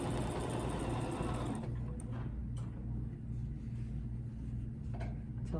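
A sewing machine stitches a quilt block during free-motion ruler work, its steady low mechanical hum and needle chatter running continuously, louder in the first stretch, then softer with a few faint clicks.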